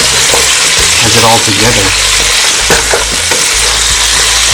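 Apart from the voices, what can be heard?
ingredients sizzling while being stirred in pot for oxtail caldo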